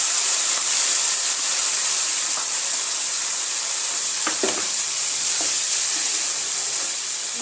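Bean paste made from ground sem beans goes into lightly browned onions frying in a pan, giving a loud, steady close sizzle with a few clinks and stirring scrapes and no talking.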